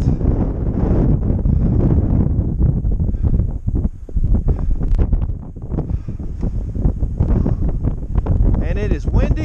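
Strong wind buffets the microphone on an exposed, cold summit along the Appalachian Trail, a loud continuous roar with gusting surges and brief lulls, filling the whole clip.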